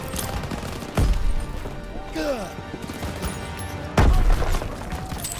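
Gunfire in the Call of Duty WW2 campaign, with two loud sharp shots a few seconds apart and chaotic battle noise between them, while a voice speaks.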